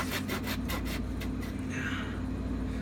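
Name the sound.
Harbor Freight drywall saw sawing wood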